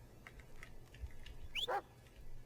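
A dog in the horror video game Blair Witch gives a short, sharp bark partway through, clear and fairly close over a faint, low ambient game soundscape.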